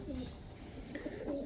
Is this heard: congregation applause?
no